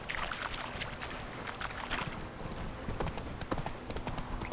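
Horse hooves galloping steadily in The Witcher 3 video game, a dense, continuous clip-clop rhythm at close range over a busy outdoor game backdrop, with no talk.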